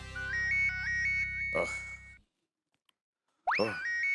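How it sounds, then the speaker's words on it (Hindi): A phone plays a bright electronic melody ringtone, cuts off briefly into near silence, then starts ringing again, loud and close. "बासुंदी का फोन, अब तो उठाना ही पड़ेगा"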